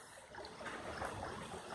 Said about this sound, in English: look at this beautiful little brook. Well, it's not a brook, it's whatever you call it. A stream.